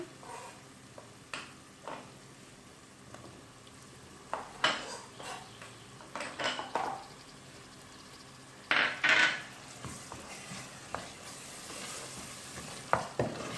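Chopped tomatoes go into a sizzling masala and are stirred in a pan, with a steady low frying hiss broken by repeated clinks and scrapes of a spoon against metal.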